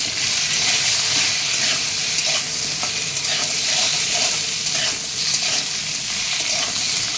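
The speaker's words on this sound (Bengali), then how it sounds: "সরিয়ে ডাঁটাটা দিয়ে দিচ্ছি, একটু নেড়ে চেড়ে।" Drumstick stalks stirred into a pan where potatoes have already been fried until browned, giving a loud, steady sizzle with scraping stir strokes throughout.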